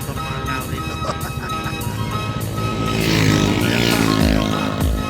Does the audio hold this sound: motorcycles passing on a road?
yes